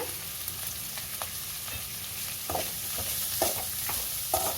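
Finely chopped onions fry in a pan for paneer butter masala, a continuous moderate sizzle broken by a few stirring scrapes and crackles, with no talking.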